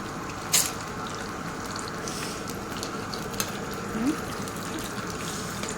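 Water pours into a curry pot on a stove as a steady, moderately quiet rush that lasts throughout, with a couple of brief clinks on top.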